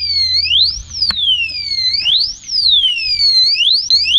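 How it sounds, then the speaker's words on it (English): A Lectric XP e-bike's anti-theft alarm sounds when the bike is moved, a loud, close electronic siren that sweeps up and down in pitch repeatedly with no pauses. "So basically it's just a little alarm"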